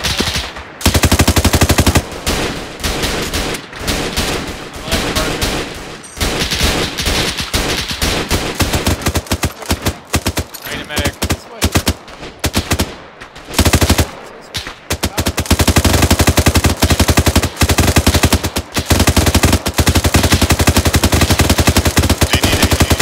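Heavy machine gun fire in the military video game Arma 3, long loud sustained bursts that rattle almost continuously with brief pauses, close and dominant, with little talk.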